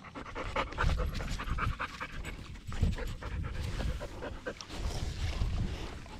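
A farm dog pants close by in quick, rhythmic, breathy bursts that go on throughout without a break.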